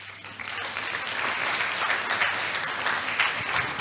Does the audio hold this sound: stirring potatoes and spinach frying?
no